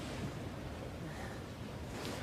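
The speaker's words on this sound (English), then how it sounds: "Got a bit of waterfall coming down here at the moment." A small waterfall runs down a rocky gully, giving a steady, even rush of falling water that stays at a constant moderate level throughout.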